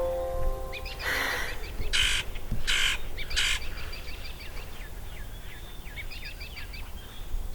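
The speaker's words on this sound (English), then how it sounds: "You guys hear those birds?" Several birds chirp and squawk in overlapping bursts, with quick trilling calls and a few harsher cries over a low outdoor rumble.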